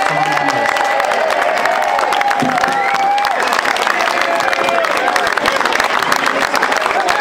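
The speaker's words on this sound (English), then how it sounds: "I'd just like to show them our appreciation with a round of applause." A loud crowd at a country club bistro grand opening applauds and cheers, with sustained clapping, whoops and voices mixing into a dense, energetic roar throughout.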